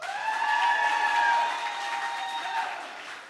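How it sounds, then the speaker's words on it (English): Comedy club audience at Sunset Strip ATX applauding after a crowd poll, a dense wash of clapping with some cheering mixed in, steady and loud before tapering off. "Yeah, ass always gets the biggest applause."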